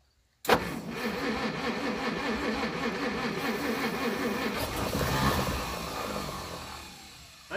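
A 1937 Pontiac Silver Streak barn find is cranked over repeatedly: a steady rhythmic starter grind with uneven engine churning that runs for about seven seconds without catching, then drops away.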